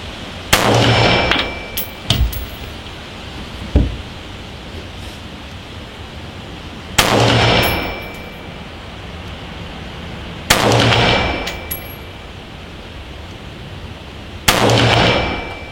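Rifle shots from a Hammerli TAC R1 AR-15-style rifle chambered in .22LR, heard outdoors as four sharp, loud reports spaced a few seconds apart. Each report is followed by a short ringing tail, with a few small clicks and knocks between the shots.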